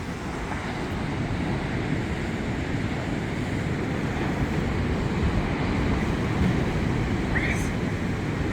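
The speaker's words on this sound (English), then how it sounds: "And it's good to see the Pacific Ocean." Pacific Ocean surf at Bondi Beach in Sydney in midwinter, a steady broadband wash of breaking waves with wind rumble across the microphone, continuous and fairly loud without distinct individual crashes.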